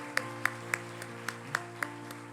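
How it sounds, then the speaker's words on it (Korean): A congregation claps at a church's third-anniversary thanksgiving service: steady, evenly spaced claps about three or four a second, fairly quiet, over a sustained held musical tone. "우리 주님의 교회 주인이신 예수님께 영광의 박수를 드립시다"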